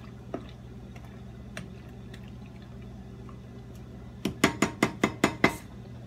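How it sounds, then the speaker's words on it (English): Noodles stirred in a pot, a few faint clinks at first, then a quick run of about six sharp metallic scrapes and taps of a utensil against the pot, close and fairly loud. "So let's stir the noodles up."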